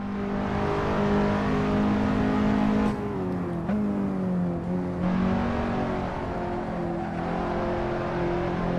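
Race car accelerating at Sebring in a racing video game, a loud continuous engine drone rising in pitch, dipping with a gear change, then climbing again, with no voices.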